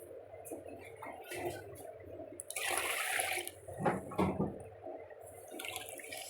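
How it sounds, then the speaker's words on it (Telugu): Water poured over three glasses of basmati rice to wash it, a soft splashing and trickling pour that swells in the middle and then settles, heard close and fairly quiet. "3 గ్లాసులు రైస్ తీసుకొని మంచిగా వాటర్ పోసుకొని ఒక 2-3 సార్లు కడిగి పెట్టుకోవాలి"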